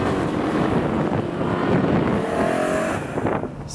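A 750 hp G-Power tuned BMW M3 roars at speed with a loud, steady engine drone mixed with heavy wind rush, the engine note easing slightly near the end.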